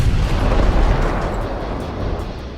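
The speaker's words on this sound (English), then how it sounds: "this beast of a gun fires shells containing 17 kilograms of explosive mixture, or a bit more than 21 kilograms of TNT" A huge HESH shell from the FV-4005 tank gun explodes in War Thunder, a deep rumbling blast with a heavy low boom that rolls on and slowly fades.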